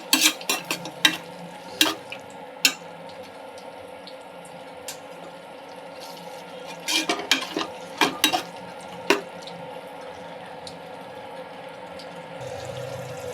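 Raw jackfruit pieces coated in masala shallow-fry in oil for a jackfruit biryani, with a steady soft sizzle underneath repeated sharp scraping and stirring clacks of a utensil against the pan, close by and irregular.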